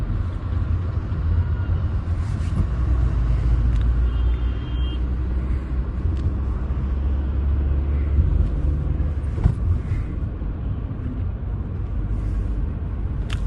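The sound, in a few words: university buses approaching on a road in Kashmir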